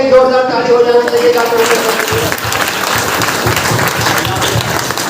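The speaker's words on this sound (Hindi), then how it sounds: "पहले हमारे सर के लिए जोरदार ताली हो जाना चाहिए।" An audience at a public meeting in Basti applauds loudly, sustained dense clapping close and strong, with a voice speaking over the first couple of seconds.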